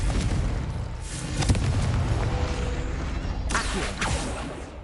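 A Confringo spell in Hogwarts Legacy detonates as a loud, booming burst with whooshing debris, followed by a second sharp blast, while rumbling game effects continue underneath.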